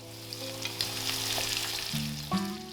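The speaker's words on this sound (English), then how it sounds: "fry the potatoes and carrots." Potatoes and carrots fry in a wok over medium to high heat, a close, steady crackling sizzle with a faint underlying hum and a stir or scrape near the end.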